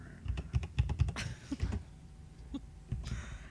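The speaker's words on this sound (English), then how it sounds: "we can hear you typing and it sounds like the most stereotypical like movie hacker moment" Rapid typing on a computer keyboard during a podcast recording, a burst of clustered key clicks up close that thins into a few scattered taps.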